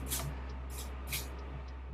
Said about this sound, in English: I'm gonna take the spray and just basically spray along like where I want the wig to stay